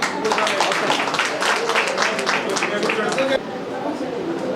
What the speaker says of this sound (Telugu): ఇప్పుడు క్లాప్స్ అబ్బా